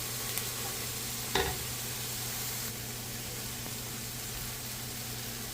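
Meat-filled pastels stuffed with minced beef, chicken and turkey fry in a pan with a steady, loud hiss of hot oil, broken once by a brief clink, and no one speaks.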